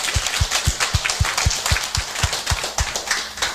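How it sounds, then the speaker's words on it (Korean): A church audience at an evening finance lecture claps in unison, with steady, rhythmic beats about four per second that carry on evenly throughout. "우리에게 말씀 주신 하나님께 영광의 박수 올려드리겠습니다"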